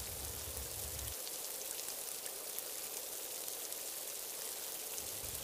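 Pouring rain in the wilderness gives a dense, steady hiss of falling water with no break, loud and close, with low rumbles at the start and end.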